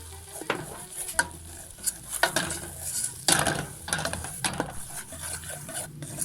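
A butter and flour roux is stirred in a pan, a spoon scraping and swishing in uneven strokes over a soft sizzle, close and steady with no talking.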